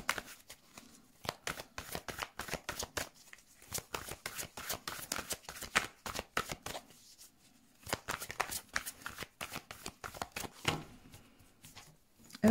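Tarot cards shuffled by hand before a reading, with repeated bursts of crisp riffling and flicking in uneven rhythm, close up, separated by short quiet gaps.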